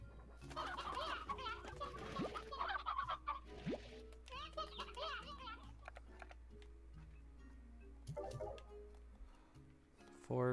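Stone hens in the video game Slime Rancher cluck in short bird-like bursts over a constant low hum, mixed with game effects and clicking sounds, with a louder burst at the very end.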